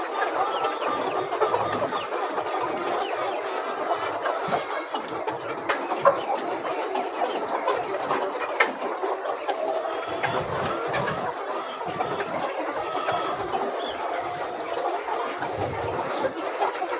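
Laying hens raised organically for eggs cluck and chatter continuously inside an enclosed chicken house, a dense steady flock murmur with overlapping calls at close range and no talking.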